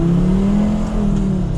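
A drift car with an OM605 engine strains as its wheels spin and slip on a slick wet road, a loud steady engine drone close by with no talking.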